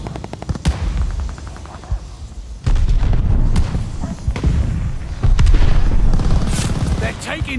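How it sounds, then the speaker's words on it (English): Heavy airstrike explosions boom in the Call of Duty Vanguard shooter, several loud blasts and bursts of gunfire rolling in waves across a small multiplayer map, growing louder toward the end. "Your teammate called an airstrike."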